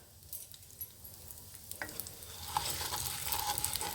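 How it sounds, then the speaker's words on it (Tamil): Urad dal and mustard seeds fry in a pan, starting as quiet scattered crackles and building into a steadier, louder sizzle with light popping and stirring. "நல்லா செவக்க வறுக்கணும்"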